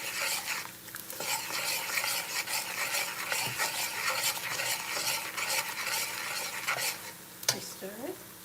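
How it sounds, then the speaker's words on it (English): Curry chicken and rice being stirred in a pot with potato and saffron powder, repeated scraping and clinking of a spoon against the pot over a low sizzle, close and busy, no talking. "Stir it."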